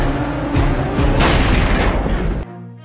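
A single gunshot in a film scene, a loud, heavy, booming blast that sustains for about two seconds and then cuts off abruptly.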